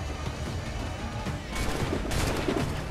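Gunfire bursts in Assassin's Creed IV Black Flag rumble over a continuous low battle din, growing denser and louder in the second half, with rapid shots layered together.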